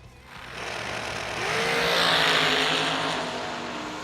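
Dragsters launching down a drag strip at a Huntsville outlaw series event, a loud engine roar that builds and swells to a peak, then recedes slightly, with a rising whine running through it.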